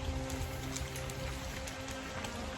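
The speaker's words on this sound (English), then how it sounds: "Now it's raining." Rain pattering steadily on leaves under a plane tree in a forest, a dense soft hiss of countless drops with a few louder close taps, no voices.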